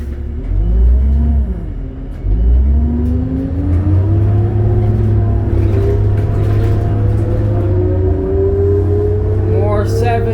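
A 2002 New Flyer D40LF transit bus engine on CT route 78 rumbles loudly from inside the cabin, its pitch climbing steadily as the bus accelerates, with a brief dip near the start and people talking over the steady drone.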